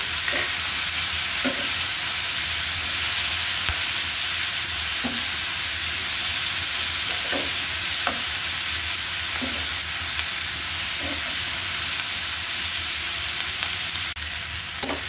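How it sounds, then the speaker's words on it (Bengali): Eggplant and green chillies fry in a pan while being stirred: a steady, close sizzle runs throughout, with soft stirring scrapes recurring every second or two and no talking. "নেড়ে চেড়ে কিন্তু বেগুনটাকে হালকাভাবে ভেজে নিতে হবে"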